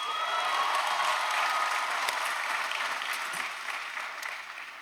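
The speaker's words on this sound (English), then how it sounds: "graduates, give yourselves a round of applause," Graduates at the UT Austin 2022 commencement applaud and cheer, a broad wash of clapping and crowd noise filling a large space, steady at first and gradually fading toward the end.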